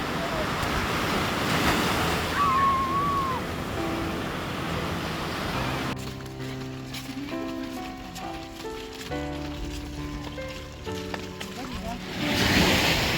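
Sea waves wash onto the Polish coast in a continuous broad rush, with wind buffeting the microphone and faint voices in the background.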